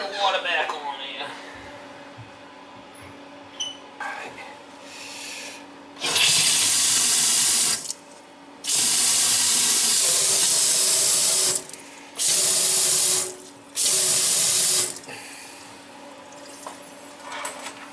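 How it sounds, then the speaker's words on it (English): Water from a Delta kitchen faucet with a pressure problem gushes loudly into the sink in several strong bursts, switched on and off repeatedly, with quieter handling sounds and faint talk between. "We'll turn the water back on"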